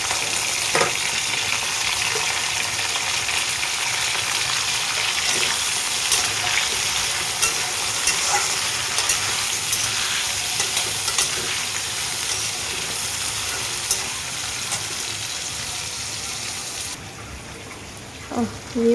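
Onions frying in a pan on a home stove for a meat dish, a steady close sizzle and crackle running throughout with occasional stirring clinks, no talking.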